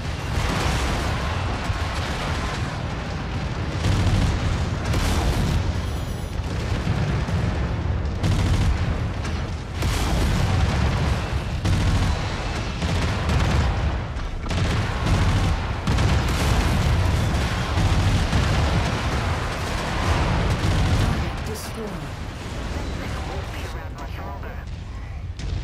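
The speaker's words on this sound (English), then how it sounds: "Getting shredded up by their cannons." Continuous heavy cannon fire and explosions during MechWarrior 5 mech combat against Capellan forces, dense booming bursts with rumbling impacts, loud and sustained for most of the stretch, easing near the end.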